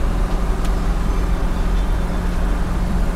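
A 1969 COPO Camaro replica with a 427 engine and 4.10 gears cruises in fourth gear at about 50 mph, giving a steady, continuous low engine drone mixed with road and wind noise.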